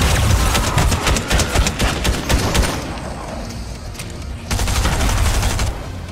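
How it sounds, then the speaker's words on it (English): Bursts of rapid SMG fire in Fortnite Chapter 3 Season 2, loud clustered volleys with a short lull midway before firing resumes. "His SMG does lots of damage."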